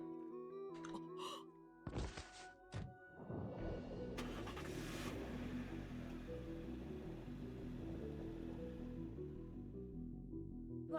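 A car in the game Emio - The Smiling Man thuds shut with a few sharp knocks, then its engine starts and rumbles steadily as it pulls away, a low hum sustained to the end with no voices.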